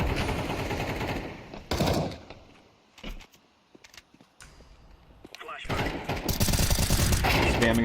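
Counter-Strike gunfire in a Premier match comes in loud bursts of rapid automatic shots, with quieter gaps and scattered single shots between them. A commentator talks over the action.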